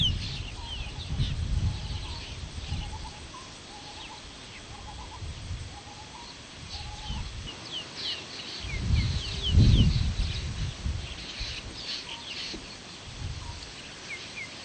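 Birds call in the forest of Kaziranga National Park in Assam, with repeated chirps and short whistled notes running through the whole stretch over low rumbling background noise, moderately close and without talk.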